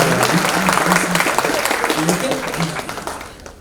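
Audience applause in a hall at a Hindi Diwas speech event at a university, a steady clapping crowd that fades toward the end, with a voice partly mixed in.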